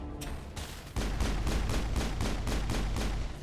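Weapons fire in Mass Effect: a sharp opening shot, then a steady, loud string of evenly spaced gunshots, about four per second, hammering close and continuous for over two seconds.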